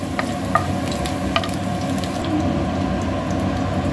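Potatoes frying in oil, a steady dense bubbling sizzle close by with a few faint clicks over the top, loud and continuous, no speech.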